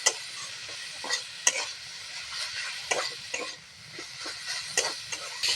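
Leafy greens with eggplant and green peas stir-fry in a pan, a steady sizzle broken by frequent sharp scraping clicks of a spatula, close and fairly loud with no talk.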